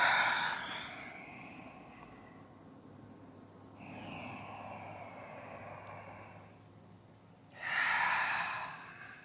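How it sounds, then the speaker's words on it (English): Slow, deep yoga breaths come close to the mic: a long airy inhale, a steadier exhale, then another strong rushing breath near the end, with no speech over them. "Breathing."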